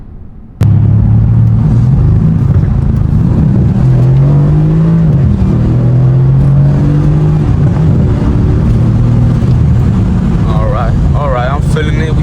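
A 500 hp Mercedes-AMG engine drones and revs from inside the car on a night drive, a loud steady rumble with rising and falling pitch, and a voice talking over it in places.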